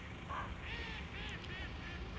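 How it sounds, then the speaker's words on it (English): A small, odd-looking duck with a fluffy brown tuft on the back of its head quacks several times nearby during a road trip in Scotland, in short nasal calls over faint outdoor background noise. "A weird little ducky's following me."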